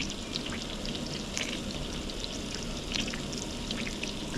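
A steak sizzles and spits in a hot pan during a cabin cookout, a steady dense crackle with scattered sharp pops close by, and no talking over it.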